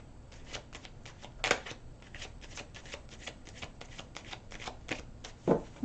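Tarot cards being shuffled by hand, a soft, quiet run of rapid riffling flicks and papery slaps in irregular bursts, with a couple of louder taps.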